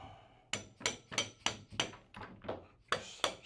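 Mallet tapping a rifle upper band into place on a New Guard America stock kit, around nine light, sharp taps in a fairly even rhythm, close and quiet.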